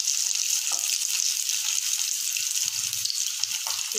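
Potatoes sizzle steadily as they fry in a pan for a Matar paneer dish, a dense continuous hiss with occasional soft clicks of stirring near the end.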